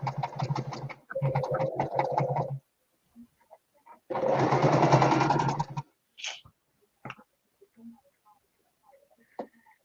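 A sewing machine runs while quilting, in two short bursts of close, steady mechanical whirring, then a longer run a moment later, followed by scattered small clicks and taps in a quiet room.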